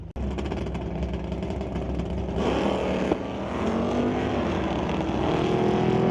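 Quarter-mile drag racing cars in the ET Series at Mission Raceway Park roar continuously, a loud, sustained engine drone with shifting pitch as the cars run down the strip.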